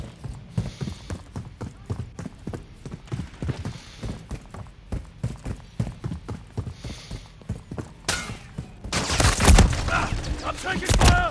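Rapid gunfire crackles in a Call of Duty battle, a long run of sharp, evenly spaced shots rattling at close range, then a denser, louder burst of firing and noise near the end.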